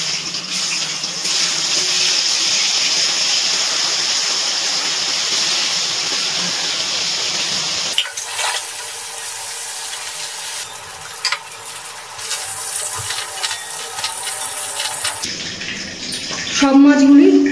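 Fish pieces frying in hot oil for a Bengali shankar fish kasha, a steady broadband sizzle filling the first half, then a quieter, thinner bubbling with brief clinks and a louder burst near the end.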